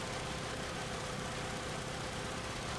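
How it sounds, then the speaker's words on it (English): The M4A4 Sherman tank's engine in War Thunder runs at a steady, loud, rumbling idle, a dense low mechanical churn with no talk over it. "This engine sounds very loud, or is it just me? That's the problem with Shermans"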